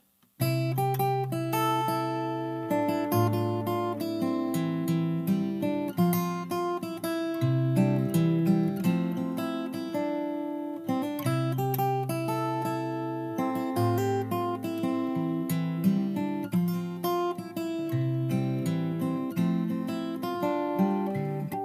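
A fingerstyle acoustic guitar plays the verse of a song, picked notes and bass lines ringing out clearly and alone at a steady, moderate pace.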